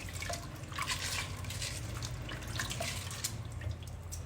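Water sloshes and drips close by as chopped vegetables are rinsed and stirred in a basin, a soft continuous splashing with no voices.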